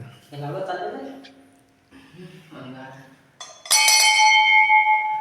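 A temple bell at the Shri Kanifnath shrine in Kalegaon rings loudly and close after speech, its bright metallic tone sustaining to the end.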